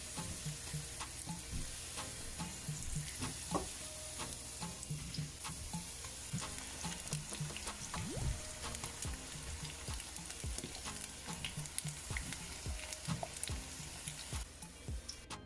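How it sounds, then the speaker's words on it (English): Plantain slices fry in hot oil in a pan, giving a continuous close sizzle and crackle with occasional scraping stirs, steady and loud throughout. "now you can just take out the ones that are fry up a little bit"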